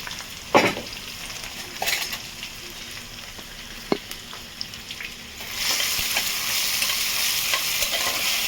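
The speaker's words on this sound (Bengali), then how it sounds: "এটাকে হালকা ফ্রাই করবো, রসুনের গন্ধটা যাতে চলে যায় সেটা আমি ফ্রাই করবো।" Chopped ginger and garlic frying in a pan for chilli chicken fried rice, with sharp spoon knocks and stirring at first, then the sizzle swells louder and steadier.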